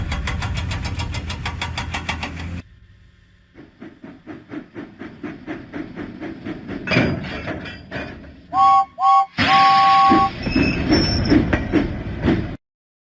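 Steam train engine puffing in a Thomas and Friends video game, rhythmic chuffs that start fast, pause, then build again, with whistle-like tones and a hissing burst near the end, clear and close.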